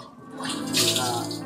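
Water poured over a person being bathed, a splashing gush lasting the full moment, fairly close, with faint voices in the background.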